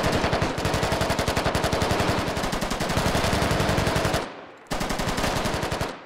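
Squad video game gunfire rattles in long, rapid automatic bursts, loud and close, with a brief pause before the shooting starts again.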